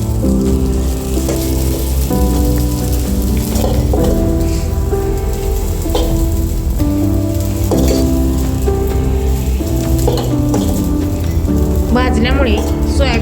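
Chopped onion sizzles and crackles in hot oil in a kadhai, a steady loud frying hiss heard close up, with music playing over it.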